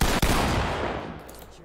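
A full magazine dumped from a firearm in the tactical shooter game Ready or Not, a loud, dense burst of rapid shots at close range, with a brief gap early on and the blast tailing off into reverberation.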